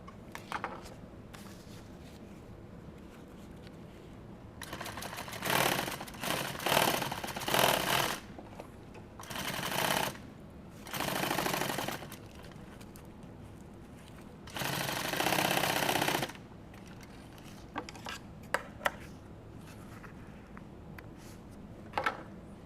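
Sewing machine stitching shoulder straps in a studio: several loud bursts of rapid mechanical stitching, each lasting one to two seconds, separated by quieter pauses with faint handling noises.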